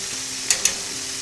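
Thick steaks sear in a hot pan, giving a steady close sizzle with two sharp ticks near the middle, and no voices over it.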